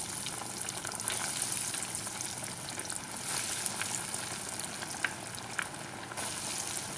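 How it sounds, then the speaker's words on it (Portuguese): Savory snacks frying in a pot of clean, hot oil, a steady crackling sizzle with scattered louder pops and bubbling throughout, close and even, with no voices. "Já estou aqui numa panela com óleo limpo e quente e eu vou começar a fritar o meu salgado."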